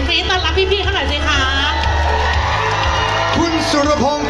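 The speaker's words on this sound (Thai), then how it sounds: "ขอน้องๆที่เป็นส่งเสียงกรี๊ดต้อนรับพี่ๆเข้าหน่อยสิคะ" Children screaming and cheering to welcome insurance company guests onto a stage at a Thai corporate event, a loud sustained crowd roar with high shrieks and whoops mixed with voices throughout.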